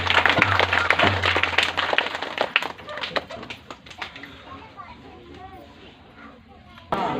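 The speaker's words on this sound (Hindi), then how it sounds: "जोरदार ताली।" A congregation at a Christian testimony service breaks into loud clapping that is strongest at first and then thins out, mixed with crowd chatter and children's voices.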